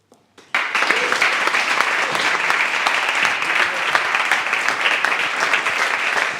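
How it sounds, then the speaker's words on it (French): Sustained audience applause at an evening plenary meeting of an associative movement, starting abruptly after a couple of faint claps and holding steady and full-bodied throughout. "On peut encore les applaudir."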